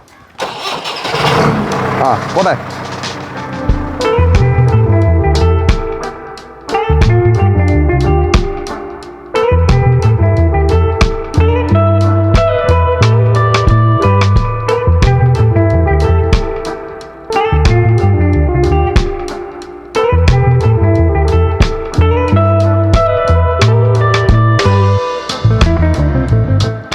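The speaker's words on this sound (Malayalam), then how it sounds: "ഈ ജെ സി ബി വെച്ച് ആദ്യം ഒന്ന് കയറ്റി ഇറക്കി നോക്കാം" A JCB engine cranks, starts and runs in repeated loud revving surges as the machine drives over roofing sheets, close by, with people talking over it.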